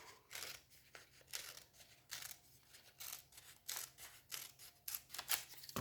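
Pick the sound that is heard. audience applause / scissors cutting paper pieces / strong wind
scissors cutting paper pieces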